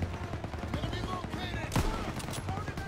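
Artillery fire in a Call of Duty: WWII battle, aimed at an MG42 machine-gun nest, with a loud blast near the middle standing out over steady rattling gunfire and battle noise while voices talk.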